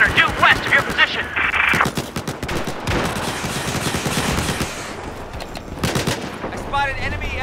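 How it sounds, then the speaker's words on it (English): Machine gun fire in the video game Battlefield 4 on the Hainan Resort map, loud rapid bursts and scattered gunshots up close, mixed with explosions and battle noise, with voices talking over it. "I've spotted a hostile machine gunner due west of your position!"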